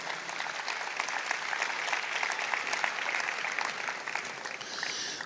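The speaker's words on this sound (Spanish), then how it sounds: "Denle un aplauso a Dios." Steady applause from a church congregation, sustained clapping throughout at a fairly even level with no talking over it.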